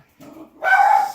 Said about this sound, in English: My dog.